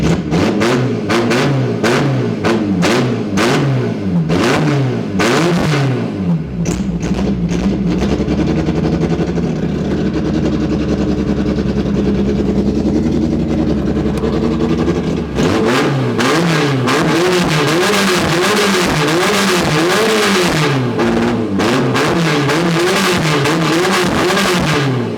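A stock Toyota Starlet fitted with a big turbo revs hard and loud, its engine note rising and falling in repeated blips, then holding a steady high drone before another burst of sharp revving.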